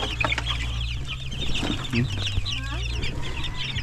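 Rhode Island chickens cluck in a crowded pen, a steady run of short clucks and chatter over a constant low hum, fairly close throughout.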